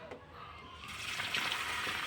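Water sloshes and rushes as green vegetables are soaked in it in a kitchen, a brief, soft wash of water that swells louder toward the end.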